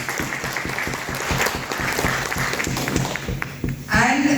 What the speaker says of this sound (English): she definitely deserves a round of applause.